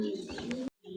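Black and red nun pigeons give a close, soft cooing call, a brief throaty murmur that breaks off and resumes after a short pause.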